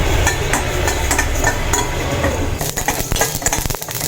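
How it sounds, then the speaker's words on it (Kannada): Fenugreek and mustard seeds dry roasting in a pan for homemade pickle give off a busy scatter of small crackles and pops, with metallic clinks toward the end. "ನಿಮಗೆ ಇವಾಗ ಚಟಪಟ ಅಂತ ಸೌಂಡ್ ಕೇಳಿಸ್ತಾ ಇರ್ಬೋದು"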